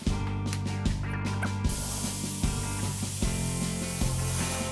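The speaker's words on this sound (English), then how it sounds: "I'm just gonna use some compressed air and spray the thing down." A steady, loud hiss of compressed air from an air pistol sprays continuously over an old door being refinished, with faint periodic mechanical clicks underneath.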